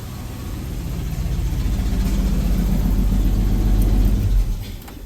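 A 1977 Ford F250 V8 fitted with a Holley 2300 (4412) two-barrel carburetor idles close by with a steady deep rumble and a slight rise, then shuts off near the end.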